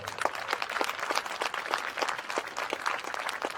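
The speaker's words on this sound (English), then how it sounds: "let's give them a round of applause" Audience at a tribal student roll call honoring event gives a steady round of applause after youth drum groups perform, many hands clapping densely and evenly throughout.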